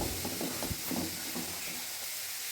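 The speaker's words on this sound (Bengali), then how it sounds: "আমি কীভাবে আলু আর ছোলাটাকে ভাজি সেটা তোমরা দেখো" Potatoes and chickpeas frying in a pan, a constant hissing sizzle with a few brief stirring knocks early on.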